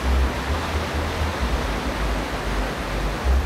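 Ocean waves at night rush and wash in a steady, dense hiss of surf with low rumbling swells, close and unbroken, with no voices.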